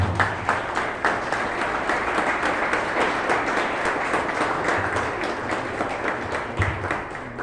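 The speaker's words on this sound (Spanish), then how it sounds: "Ese juez es Raúl Falcón, para quien les pido un fuerte aplauso." Audience applause for judge Raúl Falcón at a judicial reform talk, dense steady clapping with faint rhythmic accents running throughout.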